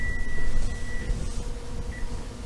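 A kitchen oven timer gives a thin, steady electronic beep lasting about a second, then a brief second beep, over a low background hum.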